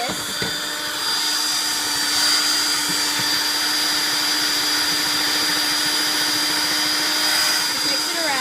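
An electric mixer whirs steadily through cupcake batter, a continuous high motor drone with a faint bowl rattle that starts after a short pause and holds for several seconds.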